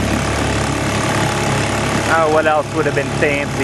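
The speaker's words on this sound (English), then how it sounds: "Well, it's pretty loud compared to some other engines." A 1941 Champion antique outboard motor runs loud and steady with a constant buzzing drone, and someone talks over it in the second half.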